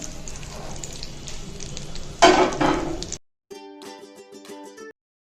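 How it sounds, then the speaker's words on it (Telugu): Urad dal tempering fries in hot oil for a coconut chutney, a steady close sizzle that surges loudly as a stir hits the pan, then cuts off and gives way to a short stretch of music. "పోపు బాగా ఆయిల్ వేడెక్కిన తర్వాత పోపు వేసి ఈ విధంగా మినపప్పు దూరగా వేయించుకోవాలండి"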